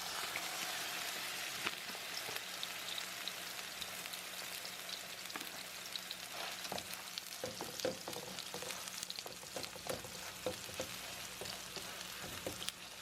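Beyond Meat plant-based crumbles sizzle and fry steadily in a pan for a vegan taco casserole, a continuous dense crackle with occasional stirring scrapes and small pops, close and alone without talk.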